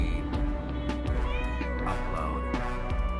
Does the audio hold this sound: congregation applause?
no